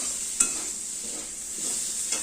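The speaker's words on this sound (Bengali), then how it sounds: "মশলার মধ্যে দিয়ে আবার ভাজা ভাজা করে দিতে হয়" Vegetables stir-frying with spices in a pan while cooking red Malabar spinach with hilsa fish head: a steady, fairly quiet sizzle with a couple of brief scraping stirs, no voices.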